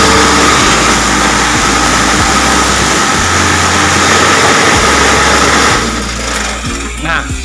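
Vibrating motors of a brick block press for twelve blocks run continuously, a loud, dense rattling drone with rhythmic thumps, then easing slightly near the end.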